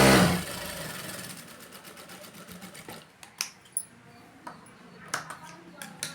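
A sewing machine stitching cloth hums briefly at the start and then fades, followed by scattered light clicks and taps of handling.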